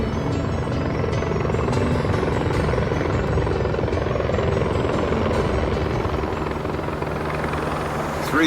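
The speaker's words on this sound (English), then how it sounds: "Three helicopters overhead" A loud, continuous rotor thrum of three helicopters overhead, steady throughout with a deep chopping rumble.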